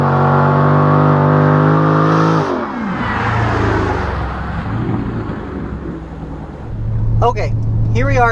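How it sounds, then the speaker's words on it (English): A 2017 Dodge Charger Daytona with a mid-muffler delete runs loud and close, its engine revving high and then dropping to a deep rumbling idle, with a voice heard briefly near the end. "let's fire it up and take a listen"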